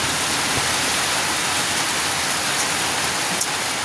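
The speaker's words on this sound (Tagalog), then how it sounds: "Ay maulan." Steady rain pours down during house-foundation digging work, a dense, even hiss of drops on surfaces that holds constant and fairly loud throughout, with no talk.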